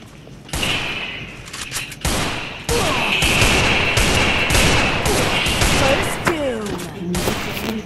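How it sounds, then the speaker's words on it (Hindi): Rapid bursts of game gunfire, sharp repeated shots and volleys over a continuous busy background, loud and close throughout. "दो तो गोली चली गई"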